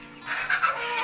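Chickens and Indian chicks cluck softly in a short burst of close, low murmuring calls.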